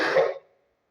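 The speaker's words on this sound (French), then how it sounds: "Excusez-moi, en même temps je tousse." A single close cough from a man preaching in French, a short rough burst that fades quickly into silence.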